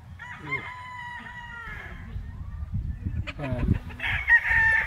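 A rooster crows nearby, a long drawn-out call followed by another crow, with faint clucking and low background noise.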